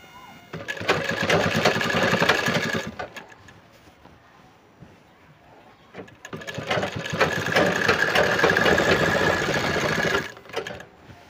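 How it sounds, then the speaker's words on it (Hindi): A sewing machine runs in two long, steady stitching bursts with a brief pause between, sewing a chain pocket joint on a petticoat; the motor whir is close and continuous. "ये सिलाई आपको कर लेना है, इसको इस ज्वाइंट को सिलाई आपको कर लेना है।"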